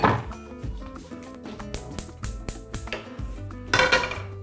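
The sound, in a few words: large frying pan being set on the stove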